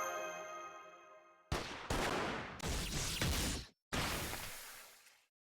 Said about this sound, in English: Master, these gunshots!